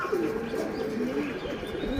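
Pigeons kept in a home loft coo softly and repeatedly, low throaty burbling notes rolling one after another at close range over a faint steady background.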